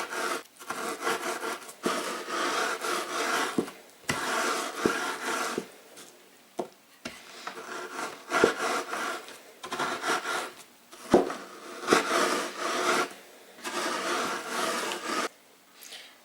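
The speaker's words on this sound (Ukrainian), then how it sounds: "А можна з допомогою блендера." A blender grinds cookies into crumbs in repeated harsh bursts of several seconds each, with short pauses between pulses as dry crumbs rattle inside.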